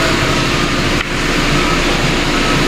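A car engine runs steadily at idle during a smog safety test, a loud continuous rumble with a brief dip partway through and no talking.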